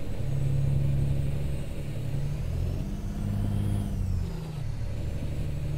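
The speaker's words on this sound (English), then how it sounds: "Like that, it's over revving it, so manual gearbox will be better." A truck engine over-revs in American Truck Simulator, a steady low rumbling drone that rises and falls slightly in pitch, moderately loud with no talking.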